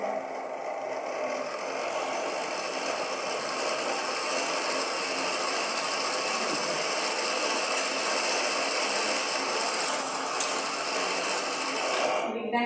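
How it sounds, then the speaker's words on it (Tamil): Weaving loom running with thread, a steady dense mechanical clatter and whir that continues evenly for the whole stretch with no talk on top. "இதுதான் தறின்னு சொல்றது."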